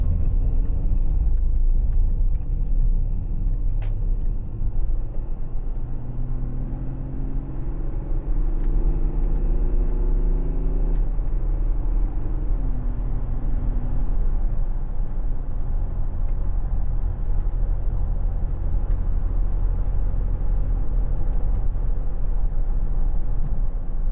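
A 2010 Audi Q7 3.0 TDI S line with Tiptronic transmission accelerates, its diesel engine rising in pitch through several gear changes under a steady interior road rumble.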